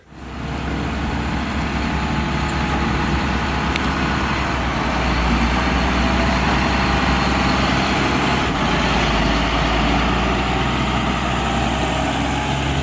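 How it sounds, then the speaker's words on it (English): A motor grader's engine runs steadily while it grades a go-kart track. A dense, constant diesel rumble and hiss stays close and loud throughout, with no speech. "Donnie is in the grader right now. Looks like he's peeling up the track"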